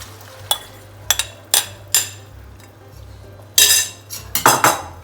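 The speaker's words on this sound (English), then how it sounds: "Here goes in the dal." Dal added to a pot and mixed, heard as a series of clanks and scrapes of a metal utensil against the pot, several sharp knocks in an irregular rhythm, close and loud, with no talking.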